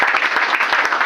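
A church congregation clapping together, a dense, loud burst of many hands in a quick continuous patter at close range.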